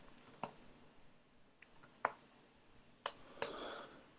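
Keys on a computer keyboard are tapped in irregular bursts, with light clacks and a few louder sharp strikes spread over several seconds, close and alone in a quiet room.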